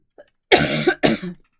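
A 2017 Ford F-150 EcoBoost pickup cranks and fires up, then settles into a deep, steady exhaust rumble at idle through a new Flowmaster muffler, fairly loud and close.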